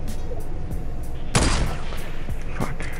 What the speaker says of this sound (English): Go ahead and shoot at them.